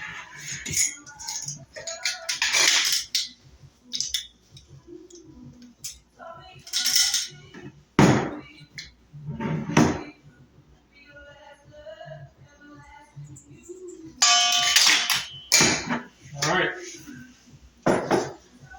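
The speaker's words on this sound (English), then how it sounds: "So we're just going to stir that around a little bit in the bowl." A spoon stirs yeast, salt and other pizza dough ingredients in a bowl, producing close, intermittent clinks and scrapes in irregular bursts with quieter gaps between.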